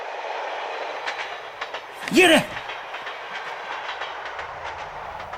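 A train runs along rails with steady rhythmic clickety-clack, moderately distant and continuous; someone briefly shouts partway through.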